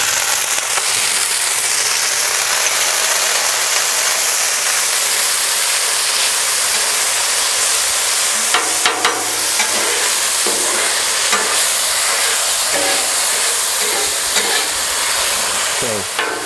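Garlic sizzles on a Blackstone griddle over medium to medium-high heat, a steady loud hiss with sharper crackles and spatter bursts joining in during the second half.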